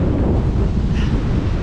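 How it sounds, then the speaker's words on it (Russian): Very strong storm wind buffeting the microphone at a Crimean seashore, a loud, continuous broadband roar with crashing surf mixed in, steady throughout with no voices. "Просто сносит с ног ветер меня. Дичайший ветер."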